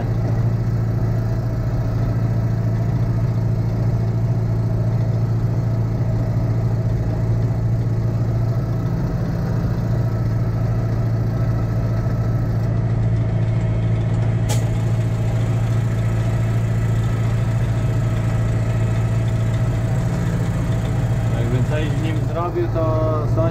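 Tractor engine running steadily while spreading manure with a spreader, a constant low droning rumble with mechanical clatter throughout, recorded close and loud from the cab.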